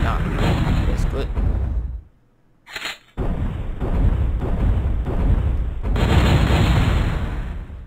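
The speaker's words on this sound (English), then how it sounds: "Eternal explosions" Loud, rumbling explosions in the game MechQuest boom in heavy waves with a short quiet gap partway through.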